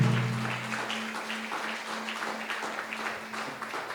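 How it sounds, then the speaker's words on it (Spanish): A church congregation at a Sunday service applauds in a continuous, moderately loud patter of many hands, with a low steady hum running beneath. "dale un fuerte aplauso de gloria y de honra a Jesús"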